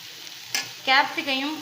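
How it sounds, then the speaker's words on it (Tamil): Shredded cabbage and capsicum stir-fried for veg fried rice, with a short scrape of a spatula followed by a loud close sizzle that rises and fades over under two seconds. "கேப்சிகமும் கண்டிப்பாக க்ரன்ச்சியாக தான் வதக்கணும், ரொம்ப வேக விடக்கூடாது. ஸோ இதுவும் ஒரு நிமிஷம் வதங்குது."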